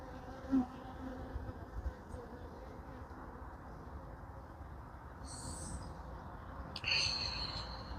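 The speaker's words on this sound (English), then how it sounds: "So the bees aren't trying to sting me as such" Honey bees buzz steadily around an opened hive during an outdoor inspection in the rain, a constant close droning hum with individual bees passing near, with a few faint knocks and rustles.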